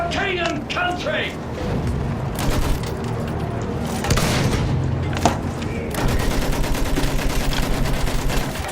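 Rapid machine gun fire rattles in a World War I video game battle with tanks, along with booms and scattered shots, then a dense sustained burst near the end while a player talks over it.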